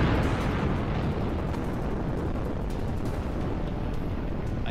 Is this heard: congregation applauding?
no